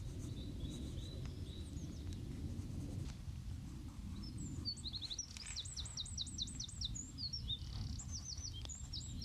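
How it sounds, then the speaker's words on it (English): Several small birds chirp and trill outdoors near a racing shed, including a rapid repeated trill midway, set against a steady low rumble of wind or distant traffic. "it's so nice to be sitting outside hearing the birds tweet"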